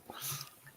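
A single quick, faint sneeze, a short breathy burst with a soft hiss of air following, close and quiet with no talk over it.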